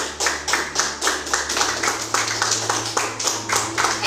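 Church congregation clapping hands together in a steady rhythmic beat, about three claps per second, loud and close, with a low organ-like tone sustained underneath.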